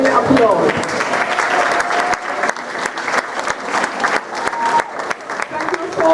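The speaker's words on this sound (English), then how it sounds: "I'm going to ask you to give them a rounding applause" An audience at a school's first-day gathering gives a round of applause, dense clapping with sharp individual claps standing out, while voices murmur and talk beneath it.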